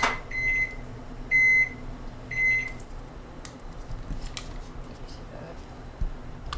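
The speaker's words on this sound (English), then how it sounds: "And only 1/4 cup of butter, which I'm going to soften in the microwave" A microwave oven softening butter beeps three times in a row, followed by a door clicking open and soft handling noises against a steady low hum.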